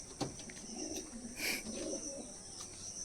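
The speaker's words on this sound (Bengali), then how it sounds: "এই হচ্ছে নর কবুতরটা" A male Kalduma pigeon in a loft gives a soft, close coo among light chirps and faint background rustling.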